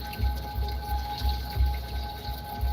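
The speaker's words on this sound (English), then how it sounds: "What do you think of the sound of rain?" Steady rain falls on a surface, a dense, even hiss with soft low thumps recurring at a regular pace throughout. No one speaks.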